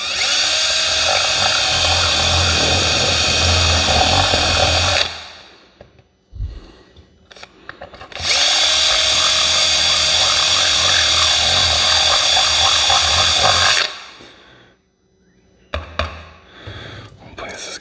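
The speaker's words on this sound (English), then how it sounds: "Just gonna drill these out." Power drill enlarging holes in a crossover board for vintage Cerwin Vega 211 speakers, two long loud whining bursts close by, separated by a pause with brief handling clicks and knocks.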